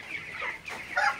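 Broiler chickens in a poultry shed on their twenty-second day, giving short, close clucks in a few quick bursts, with a louder call right at the end.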